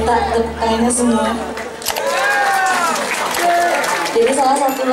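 Audience applause rings out at a live stage show, a steady broadband clatter running the whole time, mixed with singing and music carrying over it.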